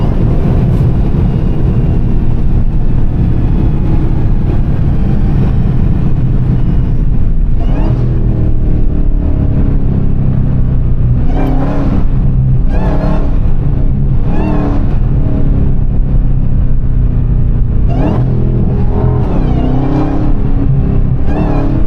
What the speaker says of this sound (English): I'm just hitting the gas.